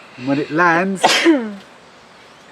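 A person sneezes once, a short sharp burst cutting into the middle of someone's sentence, while speech carries on around it.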